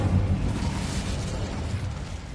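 Incendio fire spell cast in a Harry Potter video game, a dense, roaring burst of fiery whoosh and rumble that fills the whole moment, loud and continuous.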